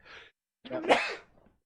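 A single close sneeze: a short sharp intake followed by an explosive burst, then a faint trailing breath, in an otherwise quiet room.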